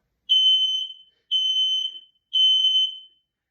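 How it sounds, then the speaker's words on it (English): Smoke alarm sounding during a test: three loud, shrill electronic beeps of about a second each, evenly spaced with short silences between, close to the listener and with no talk. "That alarm's so loud."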